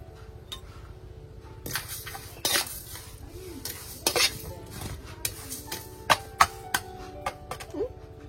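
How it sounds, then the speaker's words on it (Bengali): Whole coriander seeds roasting in a pan outdoors, a low sizzle under repeated sharp metallic scrapes and clinks of a spoon stirring, irregular and close. "এদিকে গোটা ধনে ভাজা হচ্ছে, তারপরে শুকনো লঙ্কা ভাজা হবে"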